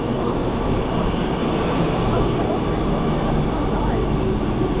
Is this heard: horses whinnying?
no